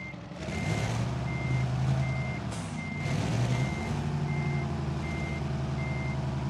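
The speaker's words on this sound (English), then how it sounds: "I also want to kind of play with these extra reverse gears I have" Reversing beeps from a Kenworth W900A truck in Euro Truck Simulator 2 sound as a steady series of evenly spaced tones. A loud, continuous diesel engine rumble sits beneath them.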